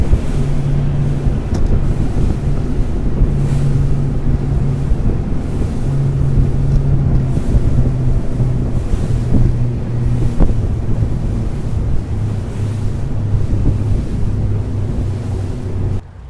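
A Lomac Adrenalina 9.5 rigid inflatable yacht tender races flat out at over 4000 rpm and more than 40 knots into the bay of Cannes, giving a steady loud engine drone with wind buffeting and water rush throughout, no talking.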